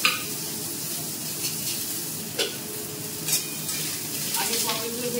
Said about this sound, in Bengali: আগে পটলগুলো ভেজে নিচ্ছি